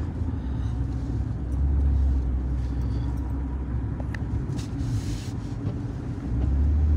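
Steady low road rumble from inside a moving car, continuous engine and tyre drone with a few faint clicks, no talking.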